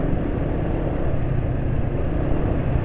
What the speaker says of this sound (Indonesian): Jadi ini suara mesin asak-asak nih ya.